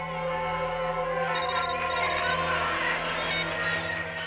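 A telephone rings with an electronic ringtone in short repeated bursts, heard over a steady background hum in an indoor scene from a Bengali crime drama.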